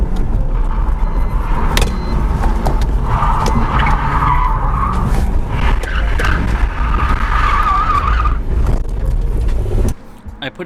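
A BMW E46 drifting at a drift event, loud continuous engine roar and sustained tire skidding and squeal throughout, with faint voices mixed in, cutting off abruptly near the end.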